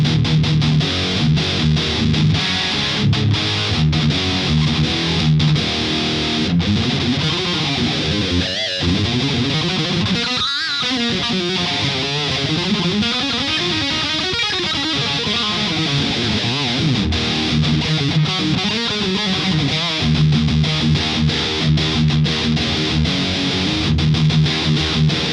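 Heavily distorted electric guitar through a HeadRush Mesa Boogie Mark IIC+ amp model without an overdrive pedal, playing chugging riffs loud and continuous for about 25 seconds with short pauses.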